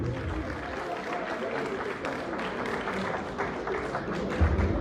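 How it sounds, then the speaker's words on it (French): Audience applause at a community leaders' gathering in Washington DC, a moderate, steady wash of clapping from a crowd heard at some distance with a faint murmur of voices throughout. "Suivez l'applaudissement, s'il vous plaît."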